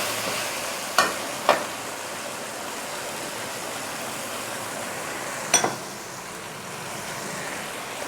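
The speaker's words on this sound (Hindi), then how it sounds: "इन सारी चीज़ों को अच्छी तरह से भून लूँगी।" Ginger-garlic paste with spices fries in a pan, giving a steady broad sizzle throughout with a few brief stirring clatters near the start and middle.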